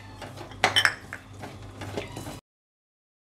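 Cashews, raisins and other dry fruits being stirred and fried in a pan, with metal spoon clinks and scrapes against the pan, a few sharper knocks, then sudden silence.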